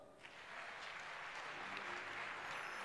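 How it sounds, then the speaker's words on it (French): A church congregation applauds in a dense, continuous wash of clapping that swells and holds steady for the whole stretch, close and fairly loud, with no voices standing out. "Acclame Jésus."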